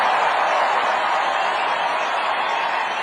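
A large crowd at a political rally cheers in a dense, loud, continuous roar that stays steady throughout, with no single voice standing out.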